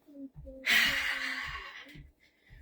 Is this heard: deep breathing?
yes